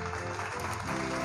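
Applause in a Minecraft parkour game, a dense burst of clapping that fills the short moment evenly and loudly, with no pause.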